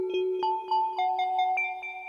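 Through-zero FM synth patch on a Brainso oscillator imitating mallet percussion: bright bell-like struck tones with ringing overtones, a run of notes at a moderate irregular pace, close and alone without voices.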